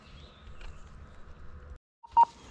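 A metal detector gives a short, loud signal tone near the end, following a faint buzzing hum and a moment of silence during a field treasure hunt.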